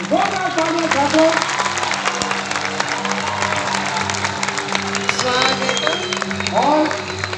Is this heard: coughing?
no